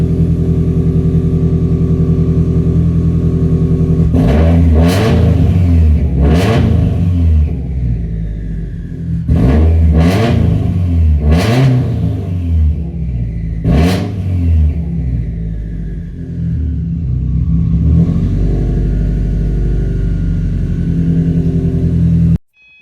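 A loud Subaru STI engine revs in a series of sharp throttle blips, about seven bursts in clusters, each rising and falling back to a rumbling idle between them. The engine is close and no one speaks.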